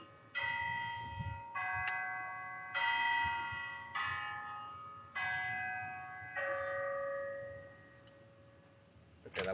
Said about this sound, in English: Okay, that was quarter of, so I had 3 sets of chimes there.